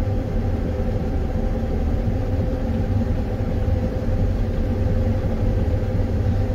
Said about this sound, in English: this combine only runs 1900 RPM